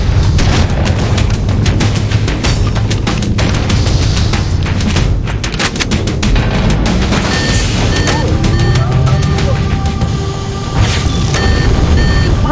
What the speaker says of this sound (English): Use explosives on the other 3 reactors. That should be enough to trigger a wildcat explosion of the engines.